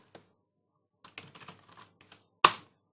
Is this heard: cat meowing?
no